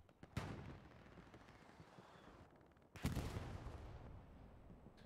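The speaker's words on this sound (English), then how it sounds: "Now artillery is coming out" Artillery fire in the Hell Let Loose war game: two heavy booms a few seconds apart, each followed by a rumbling decay, at a fairly distant, subdued level.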